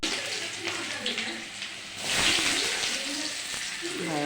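Chopped onions dropped into hot oil in a home kitchen pan, giving a steady broad sizzle that swells around the moment they land and then keeps hissing while a voice talks over it.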